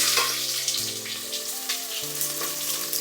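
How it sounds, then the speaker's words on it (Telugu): Onions and fenugreek seeds frying in oil for sambar make a close, steady sizzle, alongside held tonal hums that shift pitch during the short stretch. "కొంచెం ఫ్రై అవ్వడానికి కొంచెం ఆయిల్ వేసుకుందాం కొంచెం సరిపోతుంది కొంచెం మెంతులు వేసుకోవాలి ఫస్ట్ ఆనియన్స్ వేసుకుందాం"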